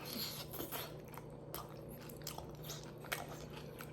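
Soft, close crunching bites and steady chewing of a vegan KFC Chizza, faint and repetitive over a low background hum.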